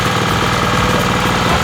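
An MBI TLC 700 cultivator engine running, a loud, close, continuous rhythmic putter of a small motor throughout the short stretch.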